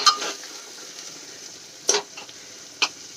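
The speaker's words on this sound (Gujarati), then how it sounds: "તો આપણે એને વચ્ચે વચ્ચે હલાવતા રહીશું અને તેલ છૂટું પડે ત્યાં સુધી આપણે એને થવા દઈશું" Soft sizzling of spice masala and tomato frying in oil in a pressure cooker, broken by a few sharp scrapes of a spoon stirring.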